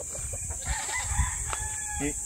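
Chickens and roosters roam a farm's chicken yard near a hut, with clucking and a rooster's crow rising over a busy, close background of fowl noise.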